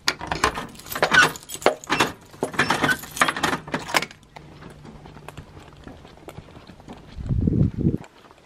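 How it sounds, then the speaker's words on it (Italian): A bunch of keys is picked up and jangles in several bright, metallic bursts close by, followed by quieter shuffling and a brief low thump near the end. "prendo le chiavi"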